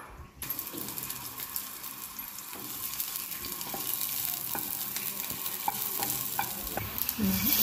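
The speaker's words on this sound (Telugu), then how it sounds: "సన్నగా కట్ చేసిన ఆనియన్స్ వేసి బాగా వేయించుకోవాలి" Thinly sliced onions fry in hot oil, giving a continuous sizzle with occasional stirring scrapes and clicks that grow busier toward the end, close and moderately loud.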